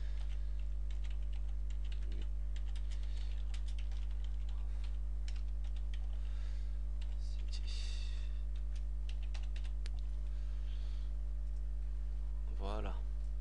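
Typing on a computer keyboard, a run of quick close clicky keystrokes over a constant low electrical hum, with a short burst of speech near the end.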